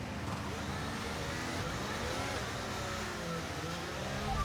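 An F1 car engine in the racing game F1 23 hums at a steady, moderate drone on the formation lap, faint and continuous with no sharp revs and no talking.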